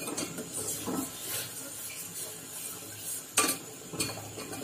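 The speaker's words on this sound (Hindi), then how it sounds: "इसको अच्छे से मैं मिक्स कर ले रही हूँ पहले, हल्की सी ठंडी हो गई है ये, तो डाल दे रही हूँ मैं इलायची।" Cardamom powder is stirred into a slightly cooled sugar syrup in a pot for semolina gulab jamun, giving soft scraping and faint spoon clinks with an occasional sharper knock, quiet and close.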